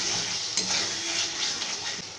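Chicken kadai being stirred in a pan, a steady close sizzle with soft scraping from the stirring running through the whole stretch, no voices.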